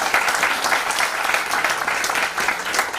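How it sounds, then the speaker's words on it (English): A crowd claps steadily and densely at a Bollywood book launch, the sustained applause filling the room at even loudness from start to finish. "A huge round of applause for him."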